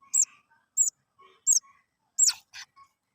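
Hungry nestling birds, rescued at night in Bangladesh, give high thin begging chirps in short bursts about every half second to second, with a few softer peeps in between and no talk.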